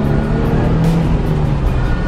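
A Nissan 350Z engine runs loud and close, a steady throaty rumble that holds level for the whole stretch.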